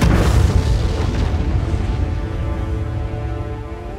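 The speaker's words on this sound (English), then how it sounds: "Once the rock, known as ore, is blasted, it's cut down to size." Underground blast of ore rock deep in a mine: a heavy low boom that rumbles and slowly decays over several seconds, loud and close with no voices.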